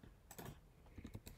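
Quick taps on a computer keyboard's arrow keys, several soft, close clicks in an uneven rhythm, heard alone at low volume.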